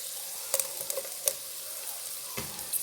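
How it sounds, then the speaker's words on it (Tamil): Onions sauté in a pan with a soft, steady sizzle, broken by a few sharp clinks of stirring. "வெங்காயம் எல்லாத்தையும் இதோட சேர்த்துட்டு கொஞ்சம் வதக்கி கொள்ளுவோம்"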